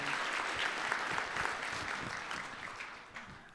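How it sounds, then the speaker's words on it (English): Audience applause for a panel of four speakers at an economic forecast event, a steady crowd of clapping hands that holds throughout and eases slightly toward the end. "Let's give all 4 of them a round of applause."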